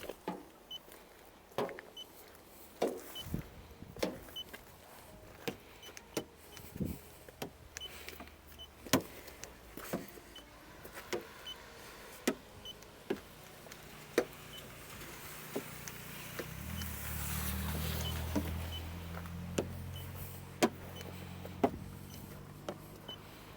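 Electric car windows whir up and down several times, with clicks of switches and door handling between runs, close by and without talk.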